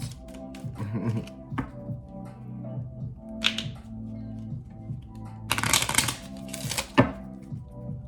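Tarot cards are shuffled close up in quick papery riffles and soft taps, building to a couple of louder flurries of card snaps.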